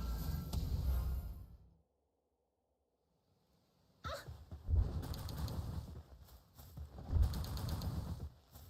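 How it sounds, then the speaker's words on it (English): A flock of birds in the video game Palworld gives cooing, pigeon-like calls in bursts. The calls drop to near silence for a couple of seconds, then resume with fluttering and clustered chirps. "I see a whole flock of the birds."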